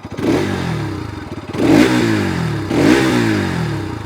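A 2025 Bajaj Pulsar RS200 motorcycle engine revs three times in quick succession, each throttle blip rising sharply then falling back toward idle, loud and close with no talk.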